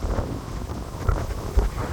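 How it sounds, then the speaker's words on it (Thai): Strong wind buffets the microphone in a Swiss town near a hillside hotel, a steady loud roar with gusty low rumbles and no voices. "ลมแรงมากนะคะทุกคน"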